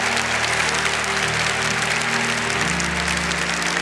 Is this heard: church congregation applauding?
yes